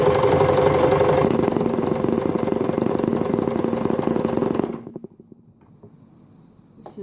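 An Empisal Dressmaker 270D sewing machine runs a decorative stitch, a loud close rapid mechanical whir with rhythmic needle knocking that stops abruptly, leaving a few faint clicks and near silence.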